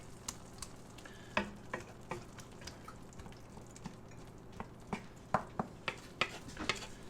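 Keto-friendly spicy eggs with vegetables cooking in a pan, giving a steady low sizzle broken by scattered sharp pops and ticks of spattering fat, fairly quiet and close with no talking.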